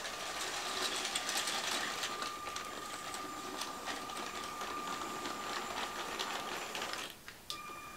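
A Bluebrixx Big Boy model locomotive runs through a tight R40 curve, giving a steady mechanical whir and fine rattling gear noise at moderate volume. The motor carries on alone without speech and drops off briefly near the end.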